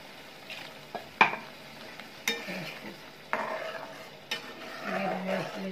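Paneer and pea masala fries in a pan as a spoon stirs and scrapes it in irregular strokes, with sharp clinks against the metal over a quiet sizzle.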